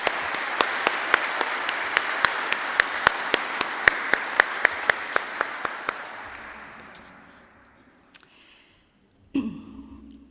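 Audience applause at a university gymnasium ribbon cutting, a dense crowd clapping steadily for about six seconds before fading out, followed by a couple of isolated sharp knocks and faint room noise.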